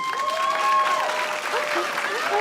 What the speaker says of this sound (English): Applaud if you believe time is money.